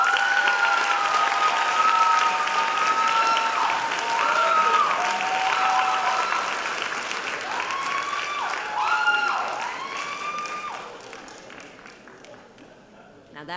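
Applause and cheering fill a hall at a medical school white coat ceremony, a dense continuous wash of clapping with whoops rising over it before slowly tapering off.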